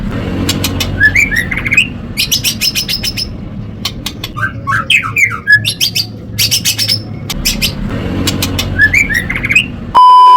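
Male bird's loud, squawking calls with metallic chirps, repeated in bursts at about one and eight seconds and through the middle, close and clear over a low background rumble.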